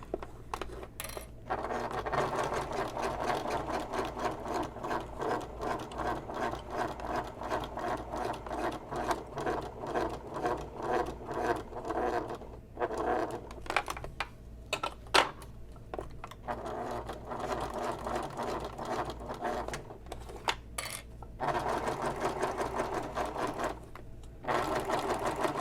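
A sewing machine stitches through vinyl for a messenger bag in quick, close bursts of rapid mechanical clatter, separated by short pauses and a few small clicks and taps.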